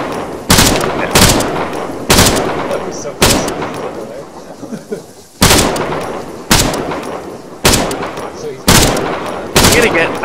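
Gunfire in Arma 3, a series of loud sharp shots spaced about a second apart, each ringing out with a decaying tail, and a voice talks between them.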